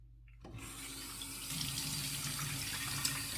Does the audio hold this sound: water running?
yes